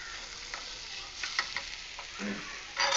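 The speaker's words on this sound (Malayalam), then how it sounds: "അഞ്ച് മിനിറ്റ് കഴിയുമ്പോൾ ഒന്നുകൂടി ഇളക്കി" Papaya thoran being stirred in a pan, soft scraping and light sizzling with a few spoon knocks, close and fairly quiet.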